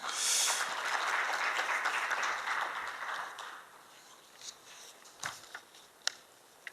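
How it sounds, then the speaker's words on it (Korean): Applause from an audience at a 2015 retail industry forum welcoming a speaker, strongest at the start and then thinning to scattered claps and faint rustling as it fades out. "큰 박수로 맞이해 주시기 바랍니다."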